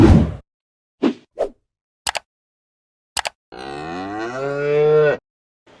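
Cattle on a farm lowing: several short grunts and calls, then one long, loud, drawn-out moo close by, with brief pauses between sounds and no talk.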